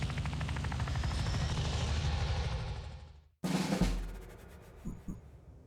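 A Phoenix Point aircraft, in the Necronomicon update, throbs with a loud, steady pulsing engine drone for about three seconds. It cuts off abruptly, followed by a sharp burst of noise and quieter clatter.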